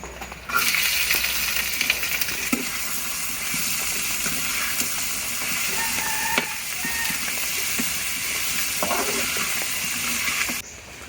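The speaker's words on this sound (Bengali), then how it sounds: "এগুলো সব কিছু এখন তেলে দিয়ে আমি ভালো করে ভাজি করে নেবো" Taki fish, onion, garlic and green chili fry in hot oil with a loud, continuous sizzle and spatter that starts abruptly and holds steady, with occasional stirring clinks, no speech.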